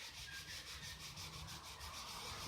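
Hand sanding of runs in a 2K clear coat, a steady close-up rubbing scrape that keeps up a continuous, even rhythm with no talking over it.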